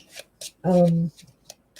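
A brief riffle of tarot cards being shuffled, a quick papery burst surrounded by soft handling clicks and rustles.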